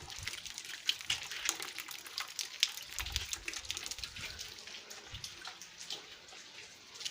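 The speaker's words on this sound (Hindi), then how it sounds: "हल्की हल्की बूंदाबांदी भी हो रही है" Light drizzle falling outdoors, a faint scattered patter of small drops and trickling water that stays low and continuous, with no talking.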